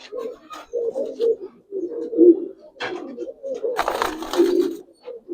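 Giribaz and Army pigeons cooing in repeated low, throaty phrases close by, with brief rustling and a sharper burst near the end and no talk.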